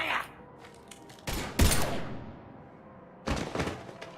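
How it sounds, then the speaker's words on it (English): Gunfire erupts in a video game as a few sharp, loud bursts separated by quieter gaps, with one especially heavy shot near the middle and another cluster at the end. "Now open fire!"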